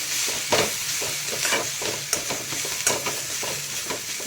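Grated coconut roasts in a little oil in a pan. A steady sizzle runs underneath while a spoon scrapes and stirs with irregular, close strokes.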